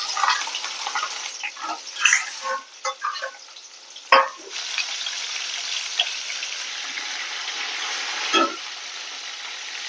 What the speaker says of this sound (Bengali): মাছ ভাজবো, মাছগুলো এক এক করে দিয়ে দিচ্ছি